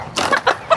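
A chicken at a market stall clucks in three short, close bursts within under a second, each with a brief squawking edge.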